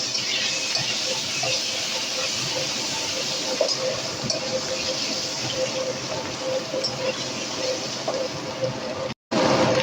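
Steady, loud sizzling of potatoes frying in oil with turmeric and salt, with faint clinks now and then, continuing until a brief cut near the end.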